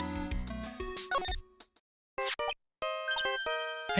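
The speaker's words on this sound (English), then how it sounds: "Hey Nick, your cell phone's ringing." A cell phone rings in the video game Phoenix Wright: Trials and Tribulations, bright jingling electronic tones in short bursts broken by brief silences, then a sustained chiming melody resumes.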